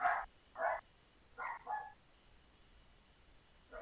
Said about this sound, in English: Pardon the dogs.